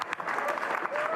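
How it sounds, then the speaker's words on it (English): Race team applauds in the garage at the Nürburgring 24h qualifying after BMW takes pole, a brief burst of clapping heard under an excited commentator's voice. "Applause from the team in the garage."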